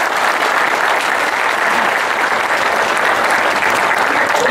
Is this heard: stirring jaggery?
no